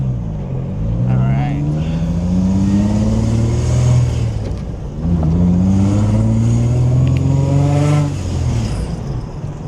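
An Infiniti G35 fitted with a Vortech supercharger idles and revs close by with its AC blowing. The engine swells twice in loud rising surges, then settles back between them.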